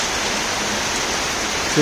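Steady hiss of heavy rain falling continuously on rice paddy fields, with a brief tonal sound right at the end.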